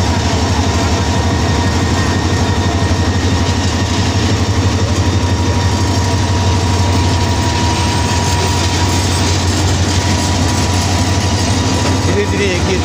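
A new red-and-green passenger train rolls slowly ahead, giving a steady, close, low engine rumble and rail noise that stays even throughout.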